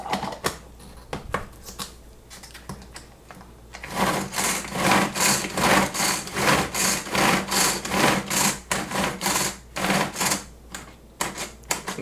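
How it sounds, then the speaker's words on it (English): A pull-cord kitchen food chopper dicing cherries gives a fast, rhythmic series of whirring clicks with each cord pull, steady for several seconds after a few scattered opening clacks, close and clear without talk. "I'm just trying to chop up some cherries small. After those few pulls, it doesn't look much different actually. So let's try a few more pulls."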